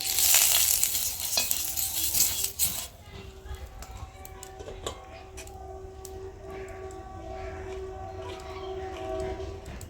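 Oil hisses and crackles in a heated clay pan while cooking chitoi pitha, a bright sizzle that flares loudly at first, then settles into a softer, steady fizz beneath a speaking voice.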